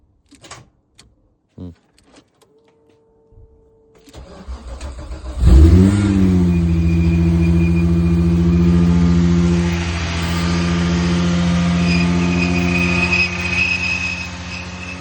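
A VW Golf Mk3 with a VR6 engine, just reassembled with its belt retensioned and engine remounted: a few faint clicks, then the engine cranks and fires into a loud, steady idle with a rising rev, alone.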